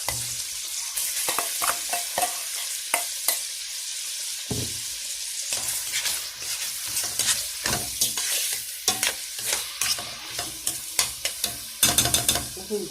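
Chawarma sausage with olives and mushrooms sizzling as it fries in a pan, with repeated stirring scrapes and clatters rising over a steady hiss; no talking.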